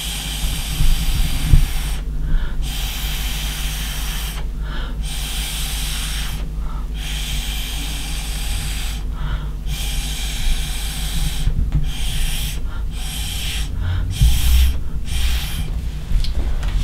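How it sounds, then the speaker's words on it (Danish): Paint blown into patterns through ordinary drinking straws, heard as repeated short breathy puffs and hisses in bursts every second or two, close and fairly loud over a steady background hum. "Og så puster jeg mønstre nu."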